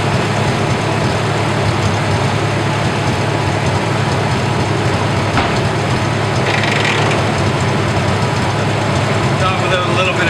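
Steady low engine drone from a 1964 Massey Ferguson 65 tractor, its PTO gears grinding as the clutch disengages, with a harsh, rough grinding texture running throughout, loud and continuous, with a brief higher rattle near the end.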